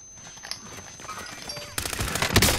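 Gunfire in the Warzone game, with faint shots and clatter early, then a loud dense burst of rapid automatic fire close by near the end, no clear speech.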